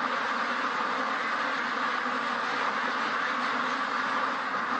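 A sick, trapped duck near a feeder quacks continuously against a dense, steady wash of noise, the calls blending into an unbroken rasping drone.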